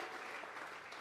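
A church congregation applauding in worship, a steady, dense wash of clapping hands that holds evenly at close range for the whole second, with no voices over it.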